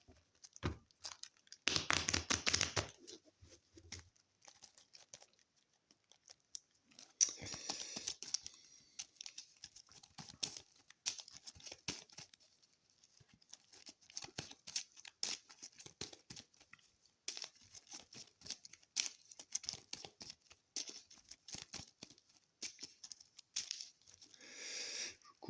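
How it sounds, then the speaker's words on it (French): Mage Knight board game cards being cut and drawn on a table, with soft repeated card slides, taps and shuffling rustles, a brief denser burst early on, no talk. "Je coupe et je pioche"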